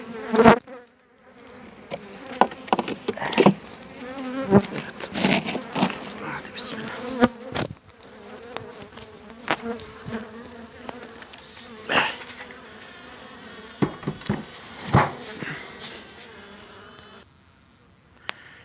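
Hungry honeybees swarm and buzz close by during syrup feeding in an area of heavy agricultural spraying, a dense, rising and falling drone broken by sharp knocks and rustles.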